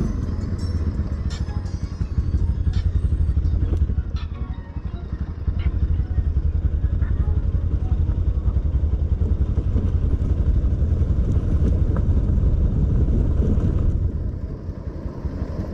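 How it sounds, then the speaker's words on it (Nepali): A motorbike comes up from behind on an evening ride on the road near the new suspension bridge between Eaklekhet and Majuwa, its engine a loud, continuous throbbing rumble throughout. "पछाडि बाइक आएको छ कि त्यही"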